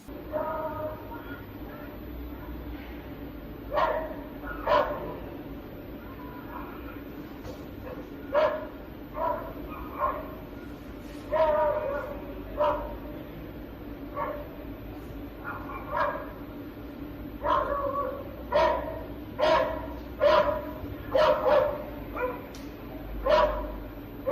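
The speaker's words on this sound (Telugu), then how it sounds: "ఓ వృద్ధురాలిపై వీధి కుక్కలు దాడి చేశాయి." Several street dogs bark in short, irregular bursts of yaps and whimpers during an attack on an elderly woman outdoors, the barking moderately close and recurring throughout amid faint background noise.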